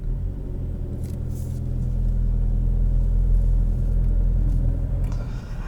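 A 2021 Volkswagen GTI with a manual gearbox pulls away on a hill as the clutch engages, giving a steady, close, low engine rumble that swells slightly midway and holds.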